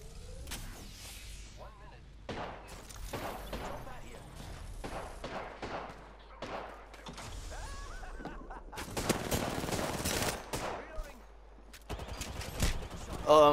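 Video game gunfire aimed at the player during a team battle-royale match, sharp bursts of shots scattered through the clip amid effects and player chatter, growing louder near the end.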